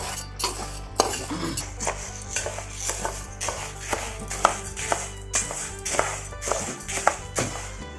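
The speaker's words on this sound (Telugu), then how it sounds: "ఇంకా కర్రపప్పు, బియ్యం. ఇలాగా కొంచెం దారుగా అయిందాక వేపుకోవాలి" Urad dal and rice dry roasting in a pan, stirred with a utensil that scrapes and taps the metal in a rapid irregular rhythm, with grains rattling under a low background hum, near and without speech.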